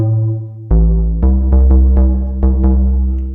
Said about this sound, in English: We're going to start with this bass that sounds something like this.